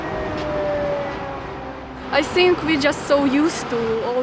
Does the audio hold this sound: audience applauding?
no